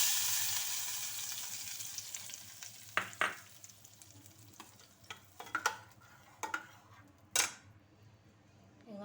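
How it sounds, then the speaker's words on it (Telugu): Oil sizzles softly in a pan as a tempering for dal cooks in a home kitchen, a faint continuous fry broken by several sharp metallic clinks and stirring knocks of a utensil against the pot. "నూనె వేసుకొని పోపు వేసేసుకుంటున్నా"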